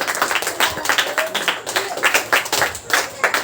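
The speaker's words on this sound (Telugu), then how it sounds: "క్లాప్స్ కొట్టాలి గట్టిగా." A group of boys claps for Chandu, the 9th-class winner of the Bomb in the City game. The applause is a steady run of close, crisp claps with voices mixed in.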